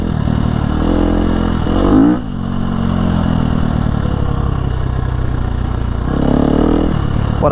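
A dirt bike, either a Sur Ron or a KTM SX 250, is ridden with its engine droning steadily and loud throughout, rising in two brief revving surges between sustained running.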